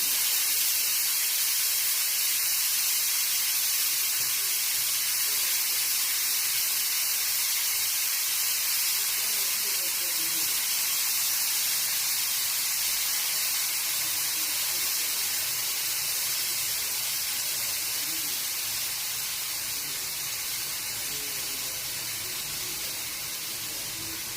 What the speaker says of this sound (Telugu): విజిల్ ఆవిరి తీసేస్తున్నాను.